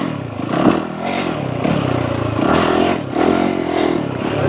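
A Yamaha YZ450FX dirt bike engine revs hard while riding, rising and falling in quick surges with loud, rough mechanical roar and some rattle, close and continuous.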